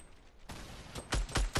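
SCAR assault rifle fire in Fortnite, several sharp, loud shots in quick succession that grow heavier toward the end, following a stretch of quieter game ambience.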